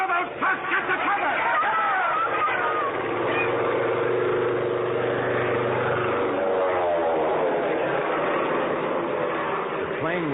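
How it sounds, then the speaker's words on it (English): A low-flying airplane sweeps down a town's main street as a radio drama sound effect, a steady propeller engine drone that stays loud and fills the scene, with voices shouting over it. "The plane was low, making a run right down Main Street."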